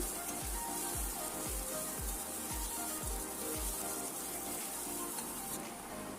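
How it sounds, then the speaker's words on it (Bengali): Chopped onion sizzling in hot oil in a pan while brinjal ghonto is cooked, a continuous close hiss with a repeating low thump roughly every half second and a slight change in tone near the end. "তেলটা গরম হওয়ার পর পেঁয়াজ কুচি দিয়ে দিলাম"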